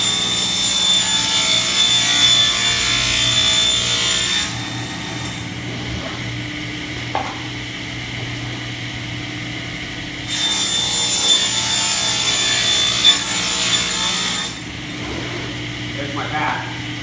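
A hand saw cuts the large front piece of wood for a box, sawing in two long bursts of steady rasping strokes with brief pauses between them, close and fairly loud.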